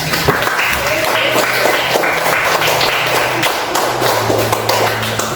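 A class claps for a group after its presentation, a dense run of many hands at a steady level with some taps and thumps in the room and faint voices underneath.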